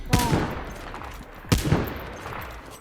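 Gunfire in the video game Cyber Hunter comes as two sharp shots about a second and a half apart, each followed by a short crackling tail under the game's background sound.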